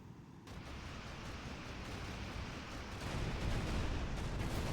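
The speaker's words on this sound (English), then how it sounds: "Arena system is intercepting a part of the Grad barrages, but obviously not enough." Grad rocket artillery barrages pound continuously in the Rise of the Reds strategy game, a dense, faint rumbling roar that swells slightly louder partway through, with no voices.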